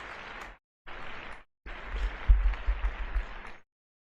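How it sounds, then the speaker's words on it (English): Applause from a paranormal livestream audience for a departing guest, heard as quiet, thin bursts of clapping broken by short dropouts into silence, swelling a little in the last stretch before cutting off. "We will give her a big round of applause."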